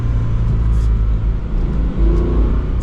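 A 2022+ Toyota GR86 fitted with an MST cold air intake blips through a downshift, its engine giving a loud, close rumbling surge and settling, with no talking over it.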